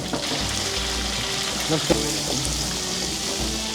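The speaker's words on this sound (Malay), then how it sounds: "kita akan goreng udang, lepas tu baru sotong. Kita goreng sampai kekuningan." Shrimp and squid coated in turmeric batter fry in hot oil with a loud, steady, dense sizzle, close up and continuous, with occasional faint clinks of stirring.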